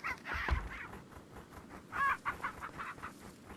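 A chicken clucks in the VR game Resident Evil 4, a few throaty clucks and squawks in two bursts, moderately loud and alone.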